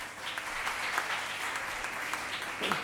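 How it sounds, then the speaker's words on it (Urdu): An audience at a party convention in Lahore claps continuously in a dense, even round of applause lasting a few seconds. "اس پہ تو تالیاں بجنی چاہیے یار"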